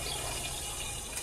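Water hits hot bacon grease in a lidded pan while a bacon cheeseburger cooks, making a steady, dense sizzling hiss that stays loud and close for its brief duration.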